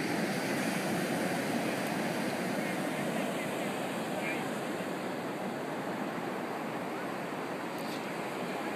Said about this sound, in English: The tide's rushing up.